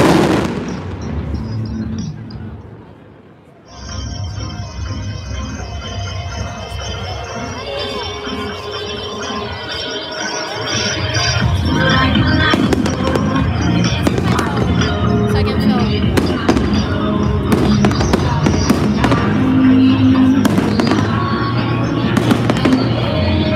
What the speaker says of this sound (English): Oh, there's fireworks everywhere,